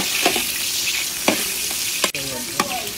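Onion and garlic frying in oil for pancit, a steady close sizzle with a few sharp scrapes and knocks of a spoon stirring against the pan.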